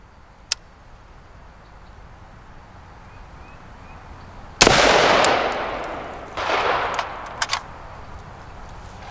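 A single .22 caliber gunshot fires sharply about midway, then a rough crackling tail and a second burst of noise; a few faint clicks are scattered before and after in a quiet outdoor setting.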